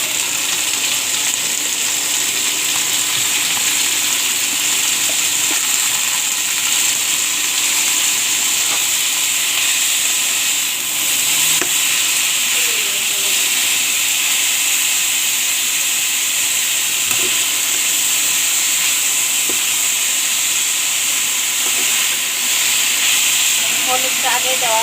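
Steady hissing sizzle of banana bhadail pieces frying in oil in a pan, loud and continuous throughout with little change.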